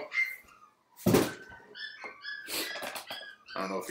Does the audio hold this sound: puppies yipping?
yes